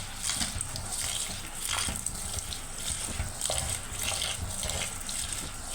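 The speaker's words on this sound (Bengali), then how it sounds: "সুন্দরভাবে চালগুলো ধুয়ে নেব" Rice being washed under running water for a biryani in a clay pot, with a continuous close splashing gush and swishing as the grains are stirred.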